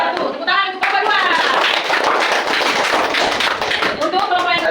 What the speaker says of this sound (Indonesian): Tepuk tangan untuk Bapak Dua